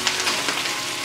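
Kale, bok choy and cabbage sauté on low heat in a pan, giving a soft, steady sizzle with faint stirring, close and brief, with no voices.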